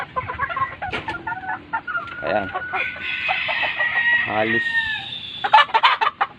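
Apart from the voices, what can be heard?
young sweater gamefowl stag clucking and crowing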